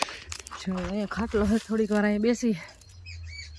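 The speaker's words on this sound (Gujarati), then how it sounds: "મસ્ત પક્ષીઓનો અવાજ સાંભળે." Someone speaks in a quiet village farm field, and when he stops, a few faint, high bird calls chirp briefly in the distance.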